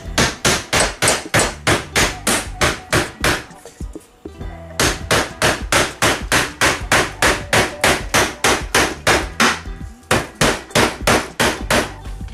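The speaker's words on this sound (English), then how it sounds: "just take my hammer and flatten it on out a little bit" A hammer flattens metal in a fast, steady series of sharp ringing blows, loud and close, pausing briefly twice before the pounding resumes.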